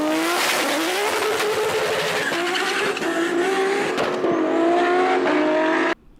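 Nissan Skyline GTR R34 with a single-turbo RB engine revs hard, its pitch climbing and dropping in repeated screaming pulls alongside tire squeal, loud and close, cutting off abruptly near the end.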